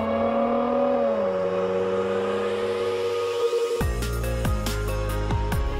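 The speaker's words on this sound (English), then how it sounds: "The incredible performance of a 390 horsepower supercharged V8 engine." A Jaguar supercharged 390 horsepower V8 drones steadily with a smooth rising whine, then gives way abruptly to loud shifting tones and sharp bursts, like revving mixed with music.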